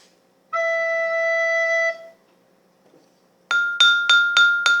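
A steady pitched tone sounds for about a second and a half, then, after a pause, a glass holding water is tapped five times in quick succession, each ringing brightly.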